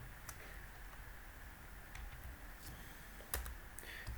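Code is typed on a computer keyboard in a quiet setting, with soft, irregular key clicks and a couple of sharper taps near the end, and no talking.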